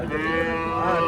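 A cow at a livestock market gives a single short moo, close and clear, lasting about a second against a faint background.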